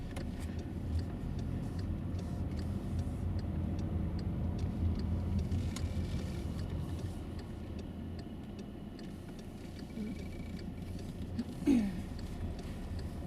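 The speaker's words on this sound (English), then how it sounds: "Tony, why is it important to make sure that you indicate in good time?" A car's turn signal indicator ticks steadily inside the cabin during a driving lesson, producing soft, regular clicks that sit faintly above the low engine and road hum.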